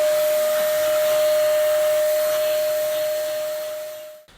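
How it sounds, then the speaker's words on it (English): A vacuum cleaner sucking ash out of the ashtray of a wood stove in an RV, a loud steady whooshing roar with a tonal whine that winds down and stops at the end. "The next thing I'm going to do is just vacuum out the ashtray, and then we'll go in here and vacuum the stove itself."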